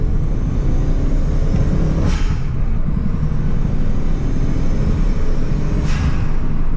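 Turbocharged Peugeot 205 running rich, its engine roaring steadily under load as it accelerates, loud and close, with two brief rising whooshes along the way.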